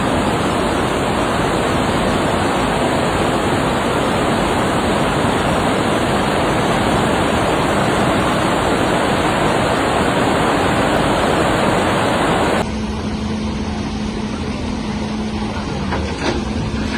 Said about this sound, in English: the violent overflowing of the Telavi Ravine River